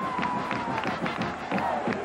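A sellout crowd of over 75,000 at the Cotton Bowl in Dallas for the 1994 Oklahoma vs Texas football game roars loudly and continuously, pulsing in quick rhythmic surges.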